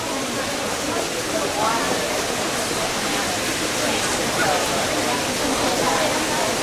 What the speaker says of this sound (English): waterfall, the water that's falling behind me